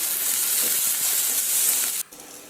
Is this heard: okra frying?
yes